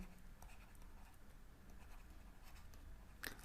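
Chalk or marker scratches on a board in short, quiet strokes with small gaps between them, close but faint, ending in a brief sharper tap.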